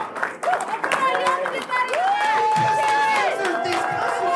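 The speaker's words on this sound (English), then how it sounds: "let's give a big round of applause to every single one of these people right here." Audience at a comic con clapping and cheering in a dense wash of applause, with whoops and a voice rising over the crowd.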